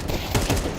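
Gunfire in a Counter-Strike match at a pro esports event, a short burst of a couple of quick shots over a dense, noisy game mix.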